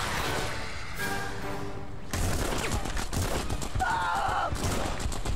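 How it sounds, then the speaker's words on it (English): Gunfire in The Punisher on the original Xbox, heard as bursts of rapid shots and impacts with a dense clattering texture, loud and close, stopping briefly before starting up again. "Stop shooting me!"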